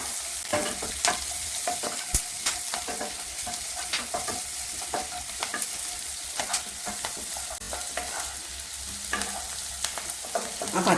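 Garlic, ginger and green chillies with a little salt sauté in a hot pan, a steady oil sizzle under repeated scrapes and clinks of a stirring spoon throughout.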